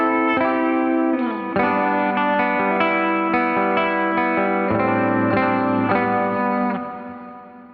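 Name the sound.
guitar with hall reverb effect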